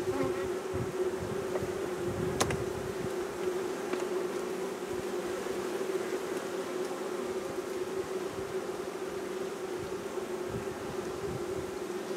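Honeybees buzz steadily and densely throughout at an open hive with a queen, a close, continuous hum with no talking.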